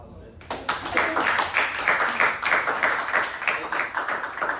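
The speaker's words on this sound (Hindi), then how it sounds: "ताली।" Students in a chemistry lecture clap in a quick, rhythmic burst of many hands. The sound starts abruptly and keeps a steady, pulsing beat at a moderate level for several seconds.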